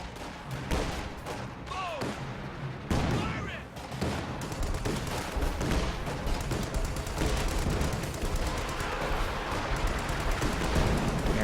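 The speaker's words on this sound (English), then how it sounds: "Here comes the dreaded Katyusha barrage." Katyusha rocket artillery barrage in a wartime strategy game, a dense rolling series of booms and impacts building into continuous heavy fire, with a voice talking over part of it.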